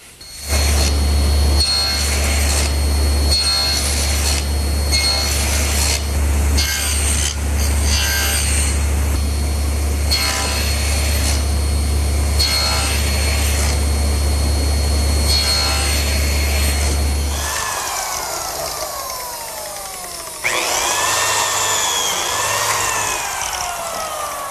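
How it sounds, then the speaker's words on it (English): A biscuit joiner cuts slots into wooden side pieces for compressed beechwood biscuits, loud repeated whining bursts of the motor and blade starting and stopping, followed by a quieter stretch of lighter workshop sounds and handling. "I've just finished cutting some slots in both side pieces for these compressed beechwood biscuits"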